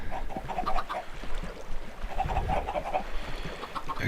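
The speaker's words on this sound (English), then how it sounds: "there's the chickens" Minecraft chickens clucking and squawking in repeated short bursts over a low, rumbling background, moderately loud with no talk.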